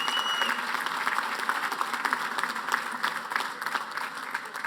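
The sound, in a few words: audience applause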